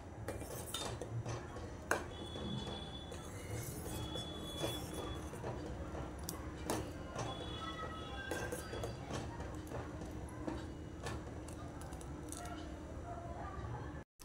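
Spoon clinks against a pot of vermicelli kheer being stirred after cardamom powder is added, with repeated metallic taps and scrapes over a steady background hum and occasional speech-like murmur.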